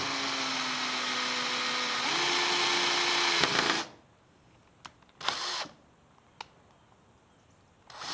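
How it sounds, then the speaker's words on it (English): A power drill whines steadily at close range for about four seconds while drilling a hole in a 2019 Xpress X21 boat, its pitch shifting once, then stops; a few brief bursts and clicks follow in near silence. "Now drill the hole."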